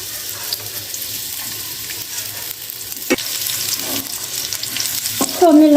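Sliced onions sizzle in hot oil in a kadai with a steady, close crackle, while a spoon occasionally scrapes and stirs them and no one speaks.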